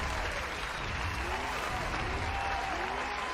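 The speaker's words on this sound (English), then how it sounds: "round of applause for Crystal" Steady, fairly quiet applause from a crowd during a livestreamed XCOM Long War gaming session, continuous throughout with a low background hum.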